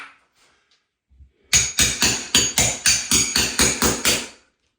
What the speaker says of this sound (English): cat's paw, let's pull those out of there.